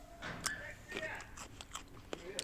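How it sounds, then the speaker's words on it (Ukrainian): Several crisp, wet crunches of biting and chewing a fresh cucumber, close to the microphone and fairly quiet, spaced irregularly. "а ви будете чути, як я хрумкатю ними"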